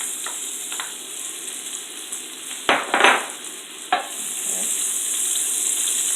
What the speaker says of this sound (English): This is garlic, or scallion, some onions.